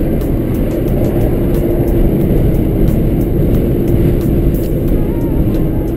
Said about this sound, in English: And we're driving on this crazy highway,